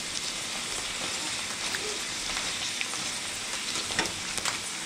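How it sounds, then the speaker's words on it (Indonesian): Pork skin crackers fry in hot oil with a dense, steady sizzle and crackle. Small pops break through the even roar throughout, close and loud. "proses menggoreng kedua ini agak cepat mengembangnya karena minyaknya sudah panas"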